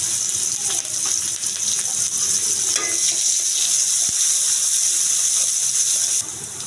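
Chopped onion, green chili and a bay leaf hit hot frying oil and sizzle loudly and steadily, with a brief stir partway through.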